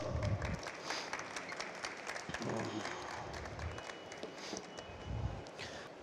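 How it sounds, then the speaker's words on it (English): Audience clapping at a leather strap-making demonstration, moderate and somewhat uneven applause with shuffling and footsteps as a volunteer comes forward, fairly close and without speech. "Round of applause."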